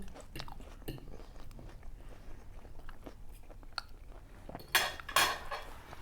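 Soft crunching and chewing of fried cauliflower with light clinks of cutlery against a plate, plus a couple of louder crisp bites near the end.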